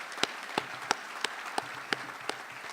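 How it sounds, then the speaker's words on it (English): Audience at an economic summit gives a round of applause, with crisp individual claps standing out at regular intervals over a steady bed of clapping. "I think we ought to give them a round of applause for the great work that they've done"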